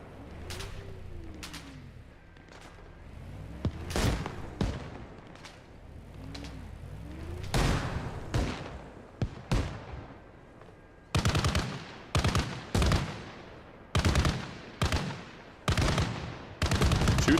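Battle gunfire in ArmA Reforger: scattered single shots and short bursts, some distant, building to loud, close automatic volleys in the final seconds.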